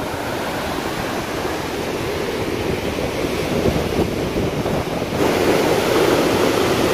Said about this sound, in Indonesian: Wow, ombaknya ngeri banget,